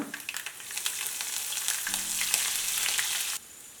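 Peanuts, chana dal and green chillies fry in hot oil with a steady, close sizzle and occasional stirring scrapes, then the sound drops away abruptly near the end.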